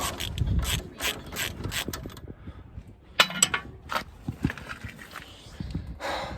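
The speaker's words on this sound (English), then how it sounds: "Using your 17mm extended socket on an extension for your hands, remove that ABS sensor bracket and of course stabilizer." Ratchet wrench with a 17mm extended socket on an extension loosening the ABS sensor bracket bolts on a Ford Focus ST Mk3, a series of close mechanical clicks and ratcheting bursts, with a sharper clank midway.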